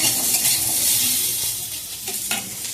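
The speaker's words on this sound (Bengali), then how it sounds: "তাই আমি এই সমস্ত সবজিগুলোকে একটু ভেজে ভেজে তারপরে রান্না করি।" Okra and potato pieces fry in hot oil in a pan with a steady close sizzle, with occasional stirring and light scraping of a utensil against the pan.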